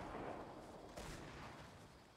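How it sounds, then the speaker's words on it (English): Gunfire in Fortnite Battle Royale, a faint, muffled burst of distant shots blurred into a rumbling wash, heard alone with no talk. "Gunfire. Over there."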